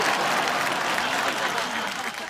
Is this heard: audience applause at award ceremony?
yes